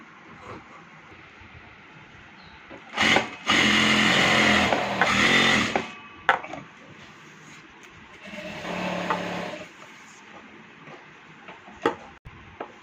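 A sewing machine making a test run after rethreading to fix loose stitches whirs in two short bursts, a longer one and then a quieter one, with light handling clicks between.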